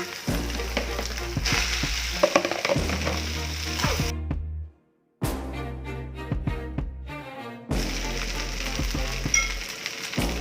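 Fried rice with canned fish sizzles steadily in a pan, with scraping and stirring of a utensil over the cooking; the frying breaks off for a moment of silence, then resumes just as loud.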